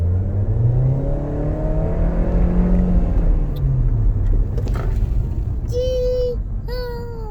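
A car engine runs steadily with a low rumble that rises and falls as it revs, with a few faint high tones near the end.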